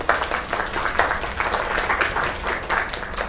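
Steady crowd applause in a video game, dense and even, with many hands clapping at once for several seconds.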